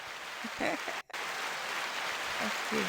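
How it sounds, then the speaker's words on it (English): A small audience gives a podcast guest a brief round of hand clapping, soft and steady, mixed with people talking at the same time. "Let's give Paige a little hand clap for that."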